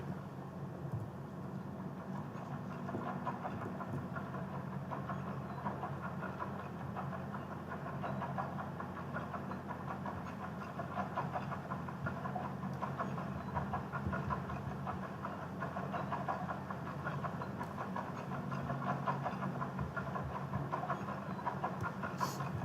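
Steady mechanical rumble of an elevator ride in the World of Warcraft video game, a continuous low hum with faint rattling and clatter holding level throughout, no talking.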